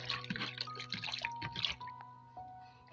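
Leaf of life leaves rinsed in a bowl of water, giving soft intermittent drips and splashes close by over a steady low background hum.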